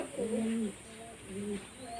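A pair of red Madras pigeons kept at home coo close by, giving two soft, throaty phrases over a faint steady background hiss.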